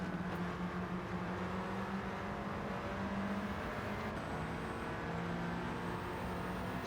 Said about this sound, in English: On the brakes, down to 3rd.